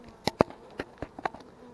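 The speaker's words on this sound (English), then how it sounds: "Let me show you what the bees are doing" Straggler bees from a removed colony buzz near a hive box vent, with several short close passes of buzzing against a quiet background.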